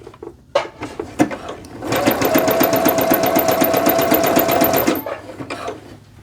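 A sewing machine stitches the side seam of a pair of joggers in one steady, fast run of about three seconds. Quieter handling noises come before and after it.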